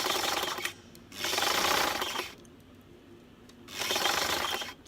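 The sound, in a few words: sewing machine stitching a zipper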